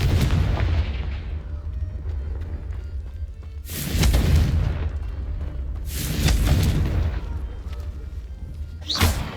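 Confringo fire spell explosions in the Hogwarts Legacy video game: three loud, booming bursts over a steady low rumble, the last one sharp and brief.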